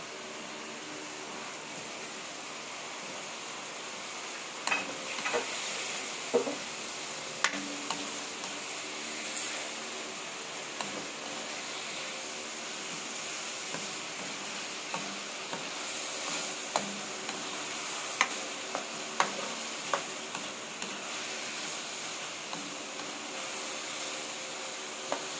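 Hotdogs fry in a pan with a steady soft sizzle and hiss, broken by occasional clinks and scrapes of stirring, close and moderately quiet throughout.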